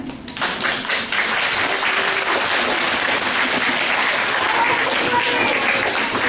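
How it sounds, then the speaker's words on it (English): Audience at a student speech event breaks into a round of applause, brisk dense clapping that swells within the first second and stays strong and even throughout, with faint voices underneath. "you can show your appreciation by a round of applause. So thank you for demonstrating that."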